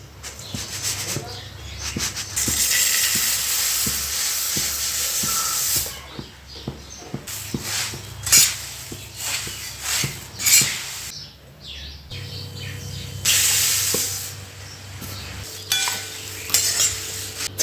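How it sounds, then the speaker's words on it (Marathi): Puffed rice roasting in a little oil with turmeric in a pan, stirred with a utensil that scrapes and clinks against the metal in bursts, with a soft sizzle underneath and brief pauses between stirrings. "थोडं तेल टाकून मी आता आहे ना मुरमुरे सगळे भाजून घेते"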